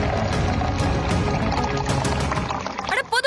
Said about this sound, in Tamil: எவ்வளவு ஊத்துறீங்க? இது சாஃப்ட் ட்ரிங்க் ஆச்சே.